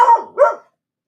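A dog gives two quick, loud barks close by, the second slightly higher and yelping, then silence.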